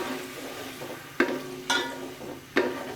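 Yoghurt masala stirred and frying in onion-infused oil for a beef paya curry, a steady soft sizzle broken by a few sharp scraping stir strokes, close and alone without voices.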